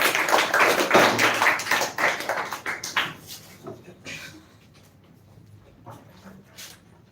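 Audience clapping for a speaker called to the podium at an English speech competition, a dense burst of applause that gradually thins and fades to scattered claps.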